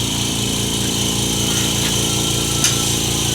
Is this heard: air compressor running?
yes